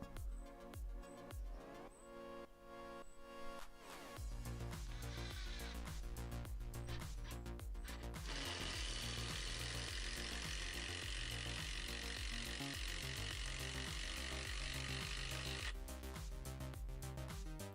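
A Ferrex 20v cordless impact driver driving a 120 mm screw into wood hums and rattles in a long, loud run, the motor climbing into rapid hammering impacts midway before easing off.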